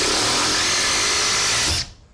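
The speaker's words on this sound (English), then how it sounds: "first up, we got the wood mode" A Makita LXT 4-speed impact driver in wood mode drives screws, a loud steady whirring buzz that builds and holds, then cuts off abruptly near the end.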